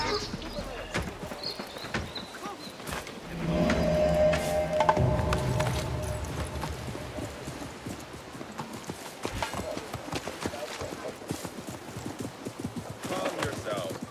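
Horses trotting in Assassin's Creed Mirage, with rhythmic hoof clip-clops that run the whole way under characters talking, along with a brief swell of background noise near the start.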